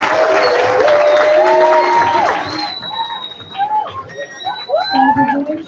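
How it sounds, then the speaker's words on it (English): Audience at a school Veterans Day event cheering and clapping loudly for students, the noise strong at first then thinning into scattered shouts and whistles. "Big hand claps to you."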